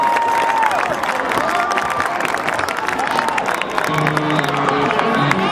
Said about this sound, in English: big round of applause for the Wooten Polar Dog